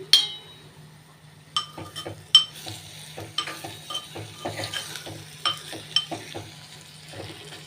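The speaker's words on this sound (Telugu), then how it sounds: "ఈ చామదుంపలు వేసేద్దాం వేసేసి ఒకసారి కలిపేద్దాం" Boiled taro tipped into a pan and stirred, a series of close scraping and clinking spoon strokes against metal over a faint sizzle, irregular and sharp, with no talking.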